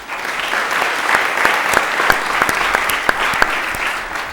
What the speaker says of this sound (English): So we really, really applaud our parents and thank them very much.